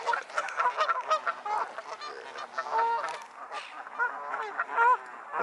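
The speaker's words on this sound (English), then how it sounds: "these little ducks here" A cluster of small ducks on a bird island calling, a steady stream of overlapping honking and quacking close by with no talk.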